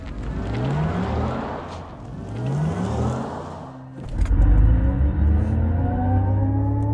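Cadillac Lyriq-V electric car doing a launch-control start, its motor whine rising in pitch in repeated sweeps before a loud surge of acceleration and a sustained high whir.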